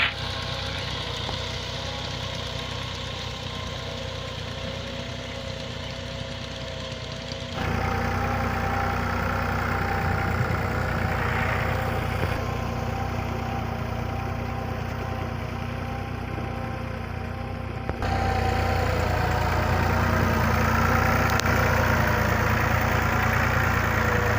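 A steady tractor engine drones and idles continuously with a low rumble in a field being ploughed, growing slightly louder in stages; no talking.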